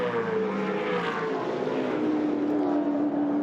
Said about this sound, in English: Great sound as the cars roar up Mountain Straight.